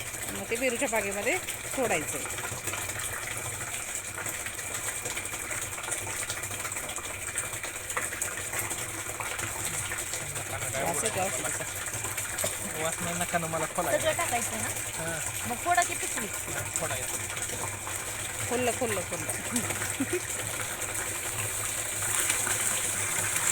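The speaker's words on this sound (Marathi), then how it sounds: "इथं ह्या ड्रममध्ये पाणी भरायचं चाललंय" Water gushes steadily into a large drum, a continuous rushing fill that runs the whole time while people talk intermittently nearby in a guava orchard.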